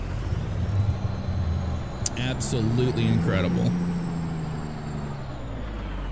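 A heavy truck in American Truck Simulator drones with a steady low engine rumble throughout, and a brief hiss of air brake releases near the middle. Someone talks over it.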